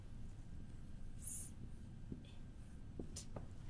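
A pencil writes a short word on paper, giving soft, faint scratchy strokes with a few light taps across a few seconds in a quiet room.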